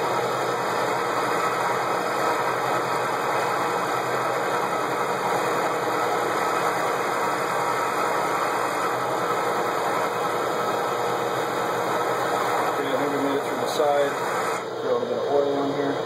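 A milling machine cuts steel for trailer spring perches with a half-inch coated high speed steel roughing end mill, a continuous grinding, rasping drone with a steady hum, close and loud, with a few brief clatters near the end.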